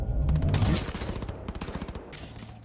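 Rapid automatic gunfire in the Cyberpunk 2077 video game, a dense burst of shots followed by a steady rhythmic string of rounds, loud and close, with no talking over it.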